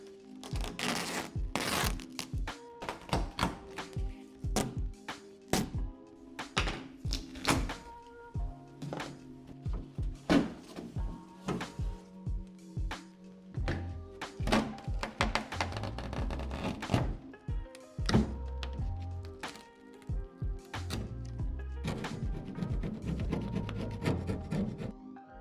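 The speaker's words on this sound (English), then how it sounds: "Right now, I'll remove this tape and see what kind of damage I can find behind it." Duct tape being peeled off a cracked plastic John Deere top cover panel, a series of sticky tearing and crackling pulls mixed with small knocks, close but quiet, coming in irregular bursts.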